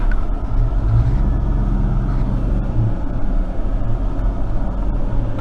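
A Chevrolet truck with a low-power fault is being driven, its engine giving a steady low rumble and drone from inside the cab with road noise, continuous throughout and with no talking.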